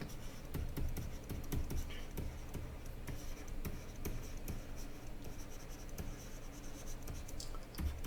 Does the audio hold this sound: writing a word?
yes